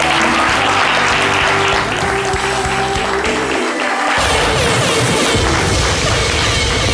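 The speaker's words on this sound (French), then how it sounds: "Applaudissements pour Jean-Jean, s'il vous plaît" A studio audience on a French-language live show applauding loudly, continuous dense clapping mixed with background music and a few low thuds.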